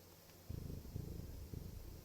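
Domestic cat purring close up, a low rumbling purr in short rhythmic pulses that swell and fade across two seconds, heard alone without talk.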